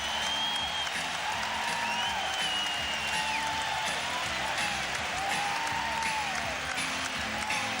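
Arena crowd at a 1991 Lakers–Warriors playoff game in Oakland roaring steadily through a timeout, a dense continuous wash of cheering and noise with faint whistles and shouts rising above it.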